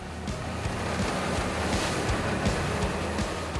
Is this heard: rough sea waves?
yes